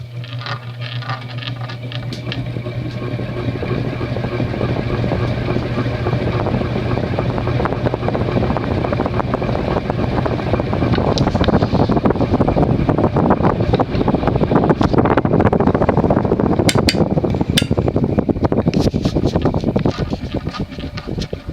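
An antique Emerson Longnose ceiling fan runs on high with a steady low motor hum and a whooshing air rush that builds slightly and holds. The sound is close and continuous, and no one speaks.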